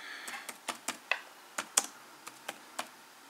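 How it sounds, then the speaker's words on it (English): Fingers type an airport name on a computer keyboard in a quiet room, a close run of about a dozen crisp, separate key clicks at an uneven, unhurried pace, with no voices. "And I type in the name of the airport, which is AirTrek Airport"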